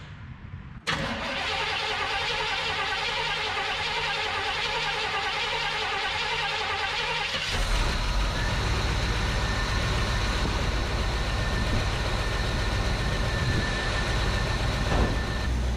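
A 1975 Chevrolet C20 Scottsdale pickup, long parked and headed for scrap, cranks briefly and fires, its V8 settling into a steady idle that grows louder and rougher partway through, with no voices.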